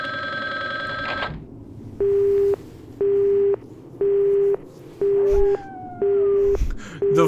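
Phone hang-up tone in a Resident Evil video game: a brief ringing burst, then a steady repeating beep-beep pattern of even pulses, loud and close with nothing else over it.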